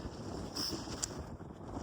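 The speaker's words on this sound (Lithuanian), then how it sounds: "Vėjas biški yra, bet nelabai didelis" Wind buffets the microphone outdoors on a hillside hike in Mourne Park, Northern Ireland, a steady low rushing roar with a few brief gusty bursts.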